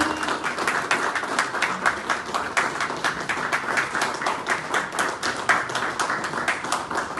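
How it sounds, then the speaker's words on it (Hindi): An audience claps to welcome a guest, the individual hand claps distinct and rhythmic in a lively, sustained round of applause at moderate loudness with no speech over it. "सारे लोग जोरदार ताली स्वागत करें"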